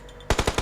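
A rapid burst of loud gunfire in PUBG Mobile, about five quick shots in succession, following a quiet background hum.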